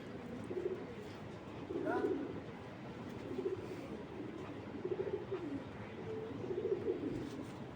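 A female racing pigeon coos softly in a few short, low calls close by, set against a steady background murmur with a hint of speech.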